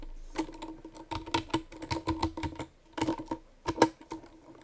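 A string is tapped out on a computer keyboard in quick, uneven bursts of crisp, close clicks, with short pauses between clusters of keystrokes and no voices.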